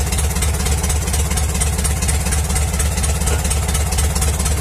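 An Eagle rotary engine in good condition idles steadily and loudly nearby, a constant even chug with no change in pace.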